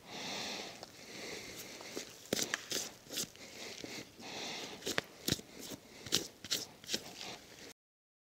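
Knife slicing deer hide away from the meat while caping a deer, a close series of soft crinkling, tearing strokes and sharp scrapes in irregular bursts, with no talk.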